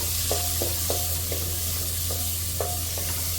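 Onion and tomato sizzle and fry in a pan for kadhi while a spoon stirs them, a steady loud sizzle with repeated soft scraping stirs close by.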